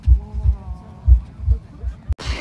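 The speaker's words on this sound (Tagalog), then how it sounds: "Pulse del heartbeat." A loud, deep heartbeat throbs through a light art installation in a forest of thousands of bulbs on an island, pulsing in steady double thumps about once per second, ending with a sharp burst of noise.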